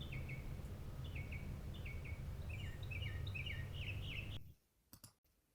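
Northern mockingbird song: repeated bright two-part chirping phrases in quick succession over a steady outdoor hum, then breaking off abruptly near the end.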